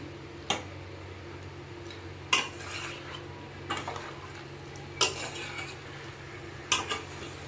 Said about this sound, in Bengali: চিকেনটাকে ভালোভাবে মশলার সঙ্গে ম্যারিনেট করে নিচ্ছে